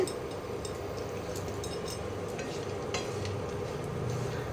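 Frying and stirring in a frying pan while making fruit sandesh, a soft continuous sizzle with occasional light scrapes and clinks, faint and steady with no talking.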